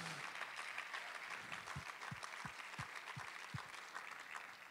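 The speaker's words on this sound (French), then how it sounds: "Est-ce que je peux entendre un amen puis une main d'acclamation?" Applause from a church congregation at a French-language worship service, a steady dense wash of clapping filling the room, with a few low thumps scattered through it.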